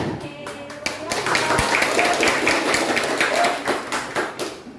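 Group clapping in a steady rhythm, many hands striking together at close range amid a noisy room with voices in the background.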